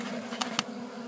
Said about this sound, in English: Come on out of there, bees.